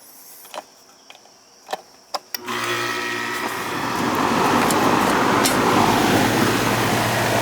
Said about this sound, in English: Compressor's running now.